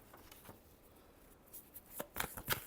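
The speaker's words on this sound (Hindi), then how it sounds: "सॉरी एक और शफल करना होगा।" Tarot cards being shuffled by hand, a soft faint riffling at first that builds into a few sharper, brisker bursts of card flicks toward the end, with no talking.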